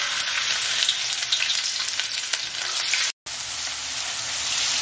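Onions drop into hot oil for chicken bharta and sizzle steadily with a bright, close frying hiss, one sharp cut-out of silence partway through, with no talking.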